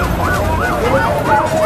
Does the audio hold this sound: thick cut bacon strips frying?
no